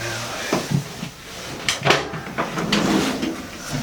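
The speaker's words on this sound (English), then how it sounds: "So if you open up that drawer now," A drawer in the interior hull of a 2017 Lagoon 42 catamaran slides open with a scrape and a few wooden knocks and clunks, heard up close in a quiet room.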